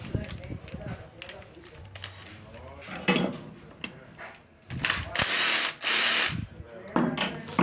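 A pneumatic impact gun works a front suspension bolt on a Suzuki Viva R motorcycle in a workshop, firing in loud, close bursts of rattling hammering with metal clanks between them, while someone talks.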